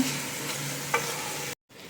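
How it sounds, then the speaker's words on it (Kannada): Rice being stirred into masala in a pan for mushroom pulao, with a steady close sizzle and frying hiss, one brief scrape partway through, then a short cut to quiet; no voices. "ಇವಾಗ ಮಿಕ್ಸ್ ಮಾಡ್ಕೊಳ್ಳೋಣ ಮಸಾಲ ಜೊತೆ ಅಕ್ಕಿನ."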